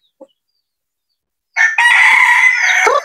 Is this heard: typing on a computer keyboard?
no